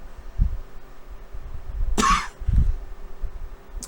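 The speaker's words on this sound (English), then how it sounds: "Sorry for all these random bursts of coughing." A woman's short burst of coughing, with low throat sounds early on, then one sharp, loud cough near the middle followed by a smaller rough cough, close to the microphone in an otherwise quiet room.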